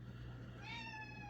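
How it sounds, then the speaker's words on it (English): A cat gives a single drawn-out meow, faint and somewhat distant, over a steady low background hum. "Kitty was meowing."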